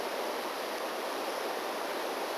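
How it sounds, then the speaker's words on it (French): A river flows below a forest campsite in Zahamena reserve, heard as a steady, dense rush of water that stays even throughout with no voices over it. "Et la rivière en bas."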